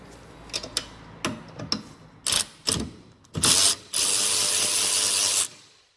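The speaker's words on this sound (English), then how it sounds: "It's a bit of a handy little tool. Snap-on hand wrench." Snap-on hand ratchet wrench turning a 13mm socket during front spring replacement on a 2006 Fiat Punto, heard as scattered clicks, then a burst of rapid ratcheting that runs steadily for about two seconds before stopping.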